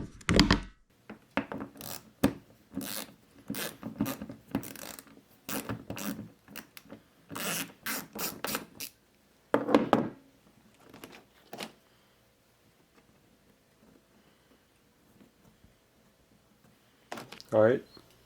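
A hand ratchet loosens the fuel tank mounting bolts on a Lincoln Ranger 300 DLX welder during engine removal, giving close, repeated short rasping clicks in uneven bursts with pauses between them.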